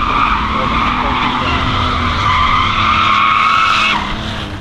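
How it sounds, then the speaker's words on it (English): A van drifting sideways around a street corner, tires squealing and skidding loudly and continuously over engine noise, the screech fading out toward the end, with a voice heard faintly. "we're gonna have him drift this entire fucking corner"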